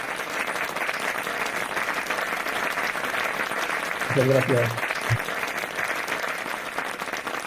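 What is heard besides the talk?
audience applause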